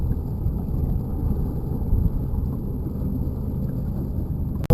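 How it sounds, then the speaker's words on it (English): Fast boats racing on open water, a loud, continuous low engine roar mixed with heavy wind buffeting, steady throughout and close to the microphone. "One more look at him with the helicopter and the fast boats."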